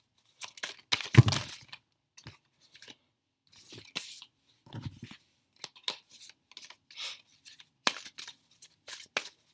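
Oracle cards being shuffled and drawn: a string of short crisp paper slides, snaps and rustles in irregular bursts with brief silences between, close and fairly quiet.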